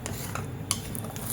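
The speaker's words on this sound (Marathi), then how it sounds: "आता आपण हे व्यवस्थित मिक्स करून घ्यायचंय." A spoon stirs carrot kofta curry gravy in a pot, with soft scraping and light clinks against the metal under a low steady background hum.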